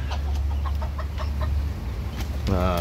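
A serama chicken clucking in a pen: several short clucks over a constant loud background hiss, with a brief voice-like tone near the end.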